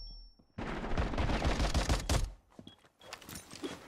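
A sustained loud burst of SMG fire in Rainbow Six Siege lasting under two seconds, followed by a few scattered shots and thuds.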